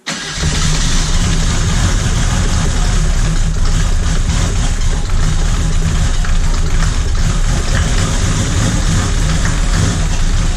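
A Mercedes-Benz diesel engine on an abandoned car cranks and fires up, then runs loudly and steadily up close for about ten seconds with a constant rough, rattling drone.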